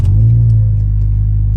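An Acura RSX Type S car engine starting, then settling into a deep, steady idle rumble heard up close and loud, with no talk over it.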